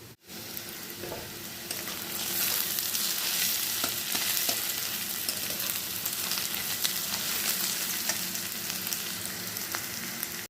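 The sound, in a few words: onions frying in oil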